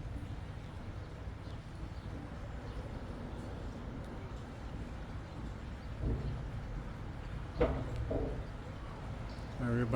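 Street traffic rumbles overhead, heard from beneath a street above a dry creek: a faint, steady low roar with occasional louder thumps and rattles from vehicles passing above.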